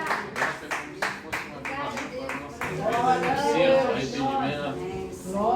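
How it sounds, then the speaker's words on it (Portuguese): Church congregation clapping in a quick, steady rhythm of loud claps for a couple of seconds, then fading under a loud voice and lively singing that carry on to the end. "Aplauda ao Senhor com o seu melhor."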